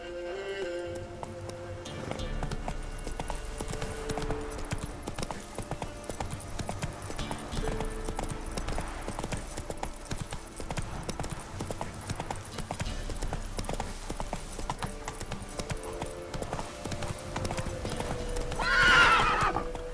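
Roach the horse gallops in The Witcher 3, with steady rhythmic hoofbeats on the ground and a loud whinny near the end.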